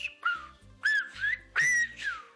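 Short whistled notes in uneven bursts, breathy and wavering, like someone trying to whistle and only partly managing a clear tone.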